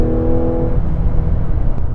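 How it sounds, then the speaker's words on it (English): 2024 Mazda CX-90 PHEV engine revving hard in sport mode, a loud, dense, continuous roar with a brief steady tonal hum at the start, no talking. "The engine makes a racket."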